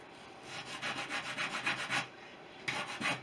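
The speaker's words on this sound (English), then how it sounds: "I've just got a small block, some 120 grit on it." A small hand block with 120 grit sandpaper rubs back and forth over wooden model aircraft wing ribs, making close, rhythmic scratchy strokes in quick succession with a short pause near the end.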